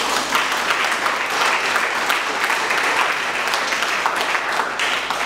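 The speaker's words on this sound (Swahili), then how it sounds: "Piga Yesu makofi." A church congregation claps together in sustained, fairly loud applause, a dense crowd of hands filling the room without pause.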